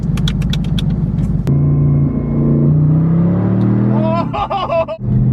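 Deep engine rumble fills the cabin of a Mercedes SLR McLaren with a five-speed automatic, droning steadily and rising in pitch as it revs, then dropping off near the end.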